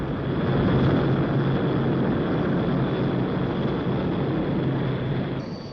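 An HS 125 business jet roars steadily overhead with a broad, rushing whine and a thin high tone, loud throughout and easing slightly at the end.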